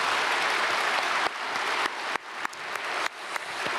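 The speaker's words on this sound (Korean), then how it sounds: "박수하겠습니다." A church congregation at Sunday worship applauds: dense, close, broadband clapping that runs steadily before thinning into uneven bursts and fading.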